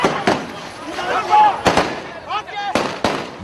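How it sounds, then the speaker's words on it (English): Several sharp gunshots fired into the air over a crowd in Monrovia, spaced irregularly and loud and close, separated by shouting and crowd noise. "Gunshots fill the air"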